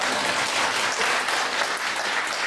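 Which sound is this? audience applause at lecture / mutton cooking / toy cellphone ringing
audience applause at lecture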